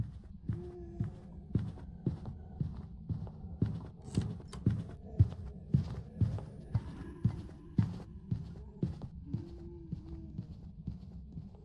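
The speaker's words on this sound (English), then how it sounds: "You hear the heartbeat?" Heartbeat effect in a horror video game, a steady rhythmic thumping of paired beats repeating at an even pace, fairly quiet, with faint ambient hum and no talk.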